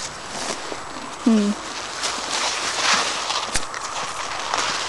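Hooves thud softly on soft ground at an irregular trotting pace, outdoors with a wind-like hiss in the background.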